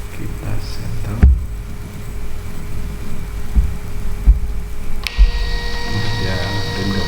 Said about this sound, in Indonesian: Dia print ke printer.